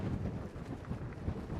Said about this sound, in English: it's really, really windy here